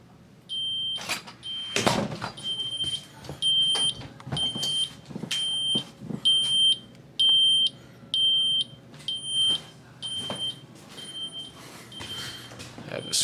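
Ademco Vista 15P alarm panel siren heard from upstairs, a faint series of regular high-pitched beeping pulses, with speech and some knocking and handling sounds mixed in.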